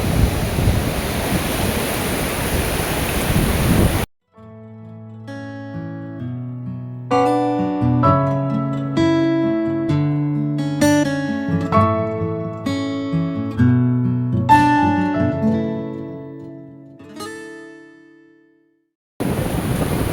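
Surf rolling in at high tide on Mandarmani beach: a broad, steady wash of waves for the first few seconds, then cut off by a long stretch of music before the roar of the sea briefly returns at the end.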